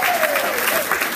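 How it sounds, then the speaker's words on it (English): Audience applause at an education leaders' talk, a dense steady wash of many hands clapping at once, loud and close, with cheering voices mixed in. "Can we do like a pre-applause?"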